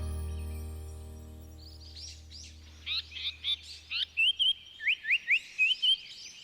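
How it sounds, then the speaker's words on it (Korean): Various birds sing in Dongbaek forest, a Jeju evergreen broadleaf woodland, with clear chirps and trills building into a lively rhythmic phrase of repeated notes. The calls are fairly close and carry over a low steady hum. "다양한 새들 또 곤충들의 소리가 있고"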